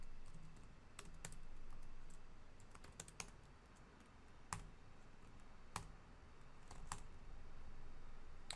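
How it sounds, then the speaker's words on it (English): Typing on a computer keyboard, quiet close-up keystrokes in irregular bursts with a few sharper clicks standing out over a faint low background hum. "come into a new command window here and type this"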